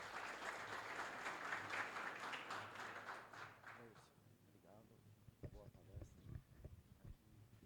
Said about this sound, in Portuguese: Uma salva de palmas ao Jailson